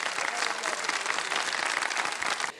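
Studio audience applause on the Ramadan TV show Shan e Ramazan, a dense, steady wash of many hands clapping at once that fills the whole stretch before cutting off abruptly at the end.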